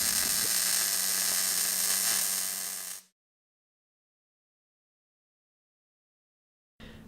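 MIG welding on a T-joint, a loud, steady close crackling hiss with a low hum that cuts off abruptly after about three seconds, followed by silence and then a brief burst at the end.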